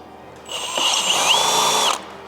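A step drill bit bores a 5/16 hole through metal on a Ford Bronco Everglades during a light bar install, a loud steady whining grind lasting about a second and a half, then stopping abruptly.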